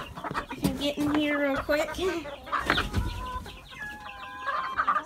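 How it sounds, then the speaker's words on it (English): Hungry chickens crowd and cluck loudly in a barn at feeding time, with squawks and murmurs close by while a person talks over them. "All these chickens crowding me."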